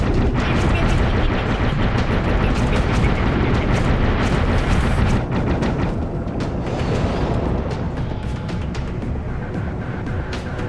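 Machine gun fire in Dave the Diver's Godzilla DLC: a long, loud barrage of rapid shots mixed with explosive booms that rolls on continuously without a break.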